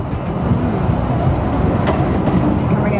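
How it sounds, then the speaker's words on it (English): A train rolls along the rails with a steady, loud rumble and rhythmic clatter heard from on board as it approaches a station. "It's our own private train, this one today."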